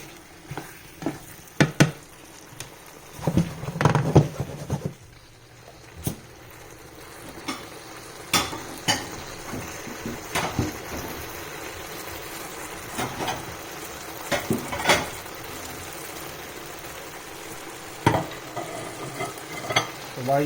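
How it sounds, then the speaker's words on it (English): Shrimp and broccoli, Hunan style, stir-fry in a pan with a steady sizzle, broken by repeated scraping and stirring clatters of a utensil against the pan, close and without talk. "I'm gonna let the shrimp cook for a little bit longer"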